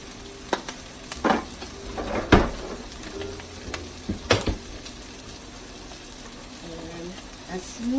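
Hatch chilies roast in a pan, hissing softly as seasoning is stirred in, with scattered scrapes and knocks of the utensil against the pan and a sizzle continuing between them.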